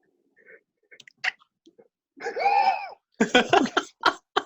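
Several short, harsh coughs in a quick cluster up close, after a wheezy, throaty vocal sound and a few small mouth noises.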